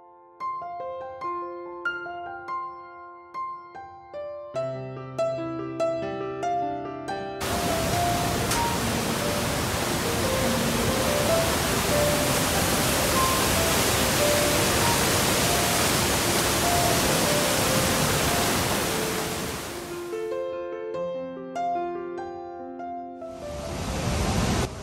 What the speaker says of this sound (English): This waterfall group is located on the Iguazu River